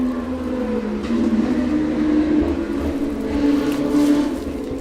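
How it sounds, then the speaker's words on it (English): A steady, loud roar of traffic with loud cars passing close by, engine rumble swelling and fading continuously without pauses, no talking. "Shout out to the Uber loud cars."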